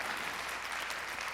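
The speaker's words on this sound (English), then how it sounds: "Let's give that a round of applause." A short burst of audience applause during a Q&A talk, a continuous wash of clapping heard fairly softly and evenly throughout.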